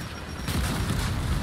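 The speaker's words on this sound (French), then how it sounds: "Attention à l'explosion!" An explosion bursts in the video game Gears of War 4, a sudden loud boom that leaves a broad rumbling roar behind it.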